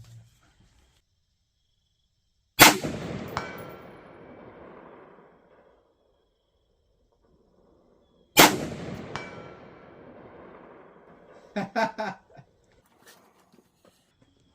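Two rifle shots fired at a steel plate 200 yards away, each a loud sharp crack with a rolling echo and a faint metallic ping from the distant plate a split second later, about six seconds apart, with softer clatter after the second.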